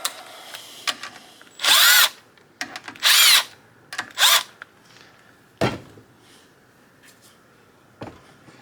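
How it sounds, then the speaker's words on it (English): A power driver backs ARP 2000 studs out of a Miata engine block held in a vise, with three loud whirring bursts of about half a second each and a few brief mechanical clicks between them, and no talking. "while it's in the vise, you can go ahead and back them out"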